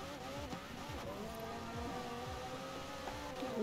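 A McLaren Speedtail accelerates hard in the racing game Forza Horizon 4, its engine droning steadily and close up for several seconds, with a hint of tire noise and a louder swell at the end.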